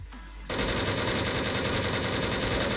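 New dual-wield rapid-fire guns in Wolfteam unleash a continuous fast burst starting abruptly after a brief pause, loud, close and unbroken like a machine gun.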